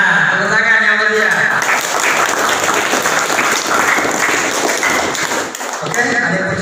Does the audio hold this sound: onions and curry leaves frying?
no